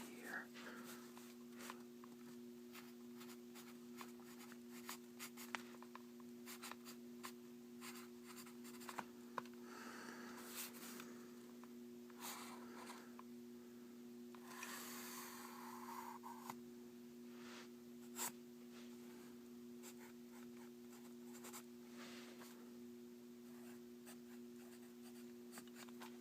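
Quiet pen or pencil scratching and sketching on paper, close and intimate, with soft rustles and a steady low hum underneath, with whispering in places.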